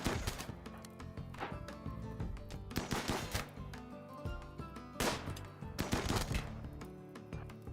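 Rapid bursts of video game gunfire crackle through a shooter match set on a map of shallow water, with dense automatic volleys and several sharp peaks of sustained firing.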